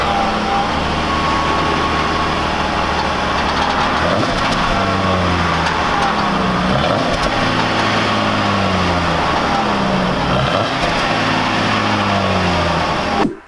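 A stock Jeep Wrangler engine with its factory exhaust runs at a steady, quiet idle, a low rumble throughout with no revving.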